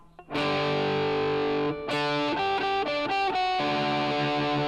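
Heavily distorted electric guitar picks single notes one after another, sustaining the first, then a quicker run of separate notes, loud and close.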